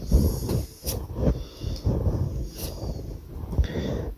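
Playing cards from a shuffled deck being laid out one by one on a surface, soft close-up slaps and slides recurring every half second or so, with breathy whisper-quiet noise between.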